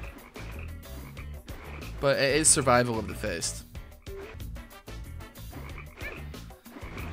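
Frogs croak in a goldfish video game, a loud burst of croaking in the middle that rises over steady background game sounds while someone talks throughout.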